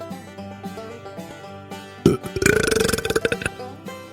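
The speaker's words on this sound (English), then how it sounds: "Yes, real burp," A loud, drawn-out burp that rumbles with a rapid pulsing rattle for about two seconds, following a stretch of quiet background music.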